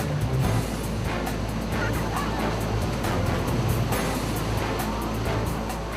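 Rough, swollen sea waves pound Haeundae beach in a continuous, loud roar of surf that stays steady and unbroken throughout, with no voices over it.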